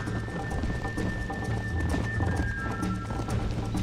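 Horse hooves gallop in the Red Dead Redemption game, a rapid, rhythmic clip-clop of hoofbeats running steadily under a low ambient rumble and a faint steady tone.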